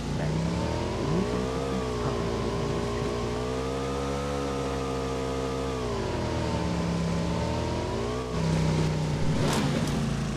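A motorbike engine revs and drones steadily in a battle royale video game, a loud continuous tone that rises and falls in pitch as it rides, with a brief surge and some clattering near the end.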